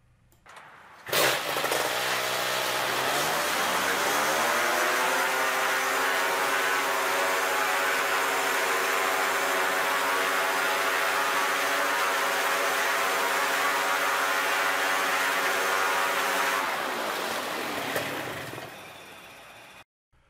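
A Polini Thor 250 DS engine with a freshly set carburetor revs up and holds steady at its maximum of about 8000 RPM, a loud, smooth, continuous drone lasting most of the run before cutting off near the end.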